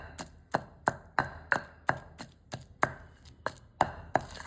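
Ridge gourd chutney with tamarind is pounded on a grinding stone, a string of about a dozen sharp, close knocks at a brisk, slightly uneven rhythm, with no talk.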